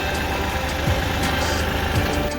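Kioti CK3510 compact tractor engine idling up close, a steady loud diesel rumble with constant low vibration and no talk.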